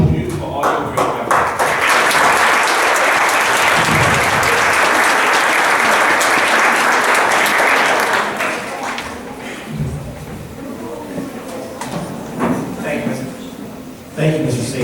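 Loud, sustained applause from an audience at a school board meeting for students and families, a dense wash of clapping that holds for about nine seconds, then thins into scattered claps and room noise.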